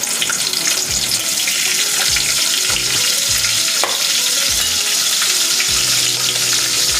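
Curry leaves crackle and sizzle in hot oil with cumin seeds for a Maharashtrian katachi amti tempering, a loud, steady frying hiss with intermittent low thumps of stirring in the pot throughout.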